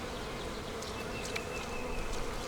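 Honey bees buzz steadily at a starter nuc hive brought from a farm, a dense continuous drone with a few individual bees flying close past, no voices.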